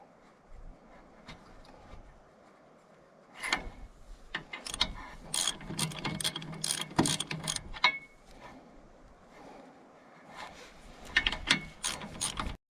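Ratchet wrench clicking as bolts are turned loose on a New Holland TC45 tractor with a Shibaura N844L engine, loud bursts of rapid ratcheting clicks in uneven spells, close and with no talk.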